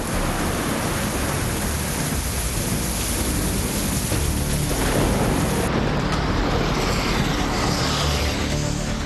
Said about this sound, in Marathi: कणकवली तालुक्याच्या भागात अवकाळी पाऊस कोसळला